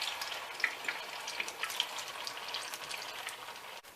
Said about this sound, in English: When you see one side is fried, you can flip it